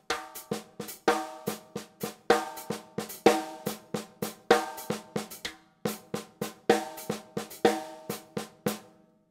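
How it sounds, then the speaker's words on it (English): Samba partido alto rhythm played on a drum kit, a steady syncopated pattern of crisp, close hits and accents repeating without pause, no voices over it. "That's samba partido alto"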